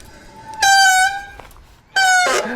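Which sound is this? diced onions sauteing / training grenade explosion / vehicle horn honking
vehicle horn honking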